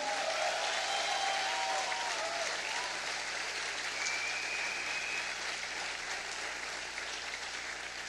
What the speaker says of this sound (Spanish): atrévase a darle un fuerte aplauso a Cristo Jesús